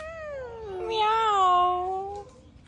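One drawn-out, close and loud meow from a cat, rising then falling over about two seconds with faint background noise.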